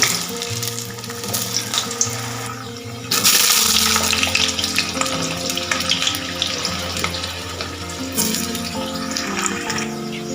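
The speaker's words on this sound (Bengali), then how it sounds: "তেলটা আমার গরম হয়ে গেছে এতে আমি দিয়ে দিচ্ছি কেটে রাখা লম্বা লম্বা করে টুকরো করা আলু" Long sliced potato pieces sizzle steadily in hot mustard oil, a dense, close frying hiss that holds fairly loud throughout and swells a little partway through.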